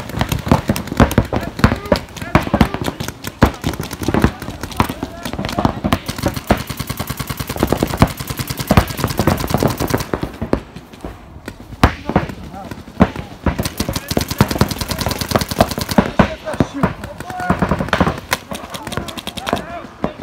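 Paintball markers fire in rapid bursts and scattered single shots throughout a tryout game on an outdoor field, loud and close, with players shouting over the shooting.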